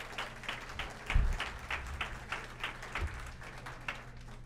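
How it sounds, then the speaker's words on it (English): At a public lecture on balance, dizziness and vertigo, a small audience claps faintly in a loose, fairly regular rhythm, with individual claps audible for a few seconds. "Please give a round of applause to Trevor."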